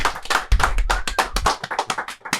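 Close, brisk hand clapping from a few people in a small studio, fast irregular claps for a guest over about two seconds.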